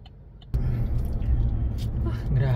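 Busy street traffic on a hot day, a steady broadband road rumble that jumps louder after the first half-second and stays dense with passing vehicles, plus occasional higher whines and hiss.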